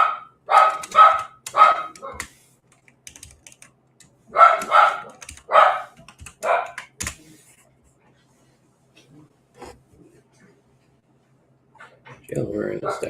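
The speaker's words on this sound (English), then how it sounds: "I wish my dog would stop barking." A dog barks in several short bursts, fairly close and loud, with pauses between the volleys and faint ticking sounds in the quiet gaps.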